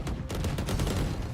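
Rapid gunfire in a video game, a dense burst of shots loud and close that fills the whole moment.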